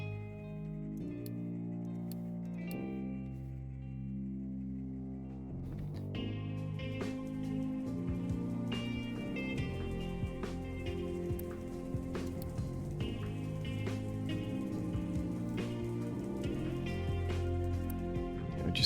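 Rain in the factory-building video game Captain of Industry, a soft steady patter that swells after a quiet musical opening and then continues under layered game music and ticking effects.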